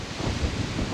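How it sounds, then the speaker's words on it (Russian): Strong storm wind buffets the microphone at a lakeside fishing spot in October, a steady roaring rush with low gusting rumble throughout, no voices. "Да, ветер, конечно, просто жесть."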